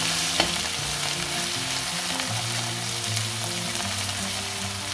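Mushrooms fry in a hot pan where paneer has just browned, giving a loud, dense, continuous sizzle with a single clink near the start, close by and with no voices.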